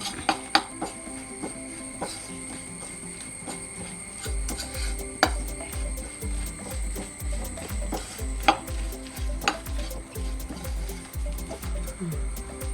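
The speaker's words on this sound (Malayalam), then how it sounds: "ഇതിലോട്ടൊരു മുട്ട ചേർത്ത് കൊടുക്കാം നന്നായിട്ടൊന്ന് മിക്സ് ചെയ്യുക" Egg being mixed into an anchovy fry batter in a bowl. After a few light knocks, a steady run of soft, rhythmic stirring thumps and scrapes sets in, with faint kitchen background.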